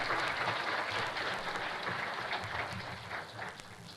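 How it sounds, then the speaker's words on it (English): An audience at an internet governance forum session applauds the panel members, a dense, even wash of clapping that holds for several seconds and slowly thins. "please a round of applause for the panel members"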